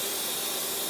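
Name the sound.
spray paint hissing onto a crankbait fishing lure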